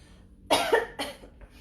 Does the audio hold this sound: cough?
yes